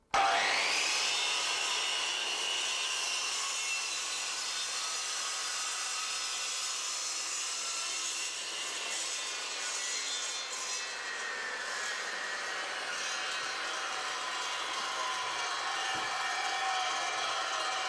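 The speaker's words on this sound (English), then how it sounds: "switch on and make the plunge cut." A Triton Workcentre power saw makes a plunge cut through wood: a loud, continuous high whine and cutting rasp that holds steady, then shifts pitch slightly midway as the blade moves through the piece.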